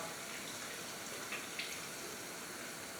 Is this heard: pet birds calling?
no